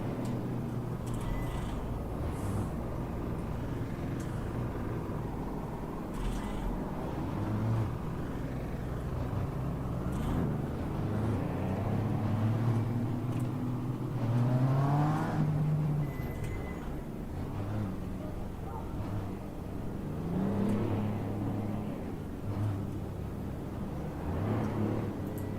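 An Aston Martin race car engine howls on the Nordschleife during a two-hour race, a continuous loud drone with rising and falling revs as other cars pass, heard from trackside with no talking.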